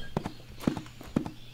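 Horse hooves clip-clopping in the video game Wild Terra 2, three evenly spaced double strikes at a slow walking pace, soft and close with no talking over them.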